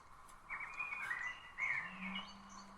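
Birds chirp in a few short, bright bursts against a quiet background, followed by a faint low hum.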